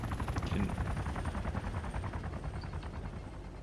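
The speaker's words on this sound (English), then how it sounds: "Oh! Helicopter!" Helicopter in the video game DayZ, a rapid rhythmic rotor thump chopping steadily and fairly close, slowly fading over a few seconds with no talk over it.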